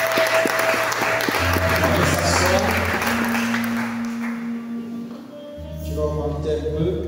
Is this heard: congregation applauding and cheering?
yes